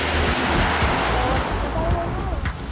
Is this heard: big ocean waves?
yes